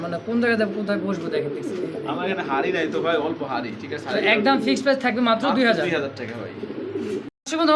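Silver Lahori pigeons, a male and female pair on sale, coo steadily at close range, their soft repeated calls running under continuous talking throughout.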